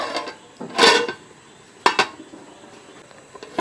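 Rice partly cooked for egg biryani being stirred in a cooking pot: a few close metallic scrapes and clanks of a spoon against the pot, with quiet pauses in between.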